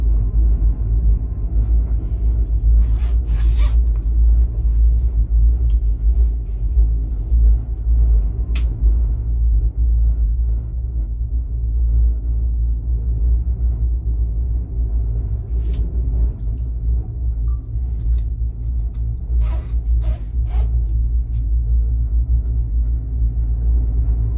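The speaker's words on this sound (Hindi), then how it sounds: "ये चेयर लिफ्ट देखें, आवाज़ इतनी तेज़ है, ये डगमगा रही है" A chair lift on Ben Nevis near Fort William, Scotland, running loudly with a heavy, steady low rumble throughout, broken by occasional rattles and clanks.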